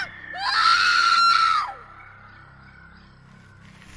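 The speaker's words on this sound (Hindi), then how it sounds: "एक औरत की भयानक चीख पूरे टनल में गूंज उठी।" A woman's terrifying scream echoes through a tunnel, a loud, sustained shriek that rises, holds, then slides downward and fades into a lingering reverberant tail, with no talking.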